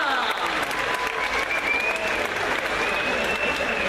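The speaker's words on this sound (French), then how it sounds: "On peut l'applaudir." Dense audience applause at an outdoor children's jumping workshop, steady and fairly loud throughout the few seconds with no voices over it.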